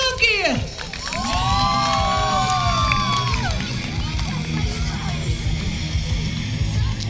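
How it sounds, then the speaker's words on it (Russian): A crowd at an outdoor municipal street festival in Uglich cheers, shouts and applauds after a bicycle stunt show, a loud sustained roar of voices with children yelling and a rising whistle-like shout near the start. "Это заслуживает аплодисментов."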